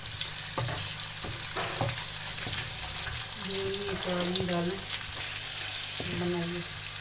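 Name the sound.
onions frying in oil and ghee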